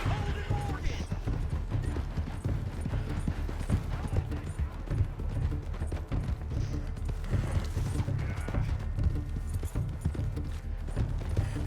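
Horse hooves clip-clop steadily in Red Dead Redemption 2, a continuous rhythmic trot over game music and ambient sound for the whole stretch.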